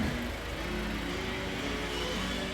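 A 2015 Ford C-Max engine idles steadily after a cambelt and water pump replacement, a continuous close mechanical hum with no talking.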